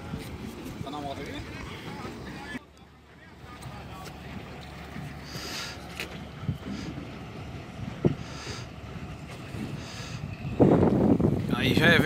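Vehicle ferry crossing the São Francisco River in Minas Gerais, with a steady low engine and water rumble, wind buffeting the microphone, and people talking intermittently nearby.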